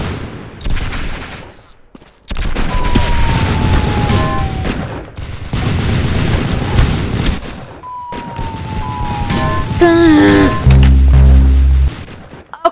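An M1919A6 machine gun fires in a video game, loud sustained bursts of automatic gunfire in several long strings separated by brief pauses, with whistling game effects and tones near the end.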